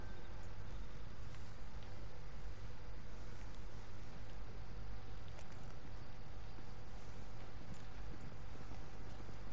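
Horse hooves clip-clop steadily in the video game Red Dead Redemption 2, a continuous rhythmic trotting under a constant wash of ambient game noise and wind.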